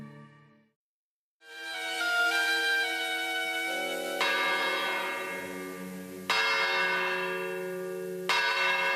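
An old tower clock bell in Ondara, Spain, tolls slowly, five deep strikes, each ringing out with a long shimmering decay that overlaps the next.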